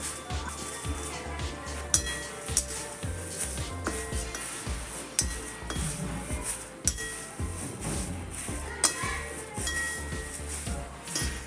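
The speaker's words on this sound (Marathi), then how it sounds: "सर्वप्रथम आपण एका कढईमध्ये हे पोहे भाजून घेऊ।" Continuous scraping and clinking of a metal wok as flattened rice (poha) is roasted dry over full heat, with steady stirring and faint sizzle, close and busy throughout, with no talking.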